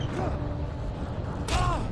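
Door creaking open in the Alan Wake game, a single creak near the start and a louder sharper creak with a bright scrape toward the end, over a constant low background hum.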